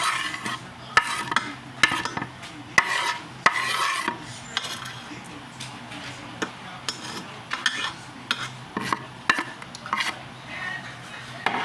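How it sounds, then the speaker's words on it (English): Onions going into a pot of rice, with repeated rhythmic scraping and clinking of a spoon against the pot throughout, fairly close and moderately loud under a faint background hiss, no talking. "I'm going to put my onions in. That way my onions can cook into the rice"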